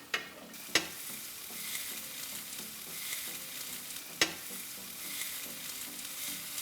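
Charred veggies sizzling in a grill pan alongside pork chops, a steady close-up crackle broken by two sharp clattering tosses, with no talking.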